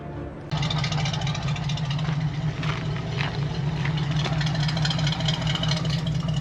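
A car engine fitted with fresh Remflex header gaskets starts and settles into a steady idle with a strong low exhaust drone and a few faint clatters, close by and continuous.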